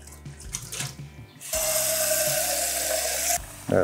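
Tap water runs steadily into a bowl for soaking cut brinjals, starting after a few clinks and continuing as a loud, even rush for about two seconds before stopping.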